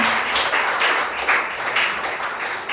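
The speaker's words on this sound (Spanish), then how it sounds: "Denle un aplauso al Señor." A church congregation claps for the Lord during a Spanish-language service, a dense, steady wash of many hands at moderate loudness with no talking.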